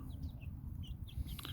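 Soft clucking and chirps from baby chicks and chickens at a coop, faint over a steady low rumble of background noise.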